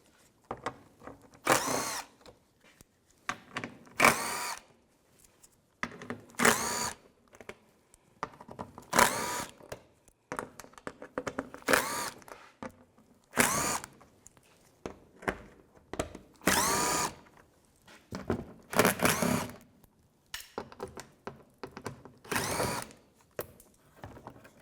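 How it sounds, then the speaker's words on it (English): A power tool with an 8 mm socket spins out bolts during front CV axle replacement on a 2004–2010 BMW X3, in repeated short bursts of whirring and ratcheting, loud and close, separated by pauses. "Then take an 8 millimeter socket, take all these bolts out."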